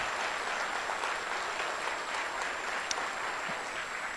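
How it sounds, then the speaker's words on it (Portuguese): A church congregation applauding in sustained, dense clapping that fills the room evenly, with no voices standing out above it. "levantem suas duas mãos, por favor, e aplaudam a Jesus"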